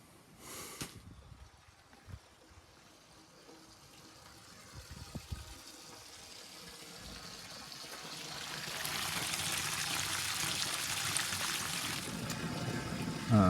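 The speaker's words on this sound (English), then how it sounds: "The barrel is leaking a little bit in various places." Water leaking from several spots in a whiskey barrel used as an ice bath: a soft hissing trickle that swells into a steady, louder gush toward the end, with no talking.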